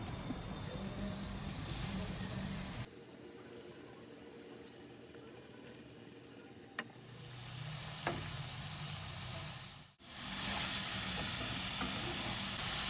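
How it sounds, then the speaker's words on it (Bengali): Potatoes for French fries sizzle in hot oil with a steady, close hiss that dips when the pan is disturbed, then swells back to a loud, even crackle. "এবার আমি বাদবাকি আলুগুলোকেও আমি ভেজে নেব।"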